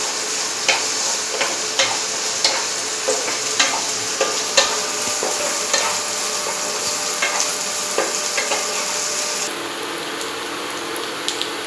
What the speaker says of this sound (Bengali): পেঁয়াজটা একটু ভেজে নেব ভালো করে।